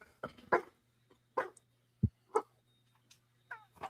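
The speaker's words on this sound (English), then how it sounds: "I got a grumpy dog." A grumpy dog at home gives a series of short, gruff huffs and barks, spaced irregularly and fairly close, over a faint steady hum.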